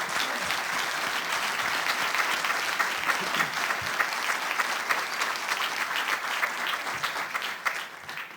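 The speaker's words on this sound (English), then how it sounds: "Nice round of applause, please, everybody." Audience applause at the 2006 Illinois State Treasurer's debate at the City Club of Chicago, with sustained dense clapping from a sizable crowd that stays steady for several seconds.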